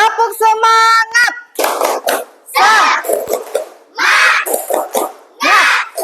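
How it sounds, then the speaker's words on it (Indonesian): A classroom of children doing a rhythmic spirit-clap routine, with bursts of group clapping alternating with loud chanted shouts and a teacher's voice, close and lively. "Kita tepuk semangat dulu ya."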